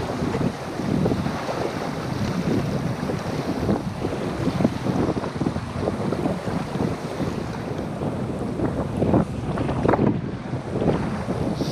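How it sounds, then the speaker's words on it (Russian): Strong headwind buffets the microphone on a boat on a calm river, a continuous broadband roar with gusty surges and splashing water underneath, no voices. "Встречный ветер достаточно сильный"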